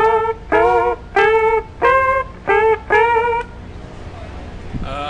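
Electric guitar plays high octave bends in a song, six sustained bent notes in a steady rhythm, each bending up in pitch, loud and close, followed by quiet.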